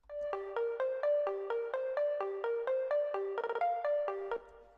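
A mixed synth track with chorus effect in Bitwig Studio plays a bright, bell-like melody of quick, evenly spaced plucked notes, clear and up front with no voices.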